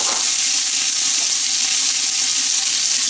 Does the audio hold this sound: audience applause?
no